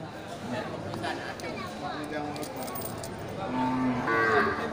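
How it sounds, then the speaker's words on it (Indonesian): Aceh cattle moo from close by at a livestock market in a loud, drawn-out call that rises toward the end, with people chattering faintly in the background. "Ya, ini indukan sapi Aceh dengan pedetannya."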